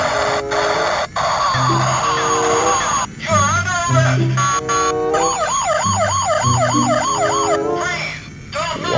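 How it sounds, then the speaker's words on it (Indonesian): A toy police patrol car siren plays loud and close, with rising and falling electronic wails, warbling yelps and a few short breaks between changing patterns. "ini ada mobil polisi patrol"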